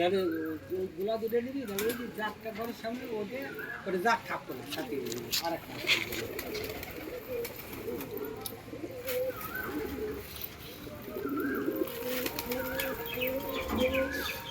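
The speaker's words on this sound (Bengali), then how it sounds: "দেখুন বন্ধুরা কত পায়রা" Pigeons coo repeatedly close by in a soft, rolling rhythm, with occasional wing flutters and a person talking intermittently over them.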